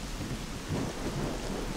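Thunder rumbles low and steady beneath driving rain in a stormy S.T.A.L.K.E.R. Clear Sky game world, a brief continuous roll with no voices.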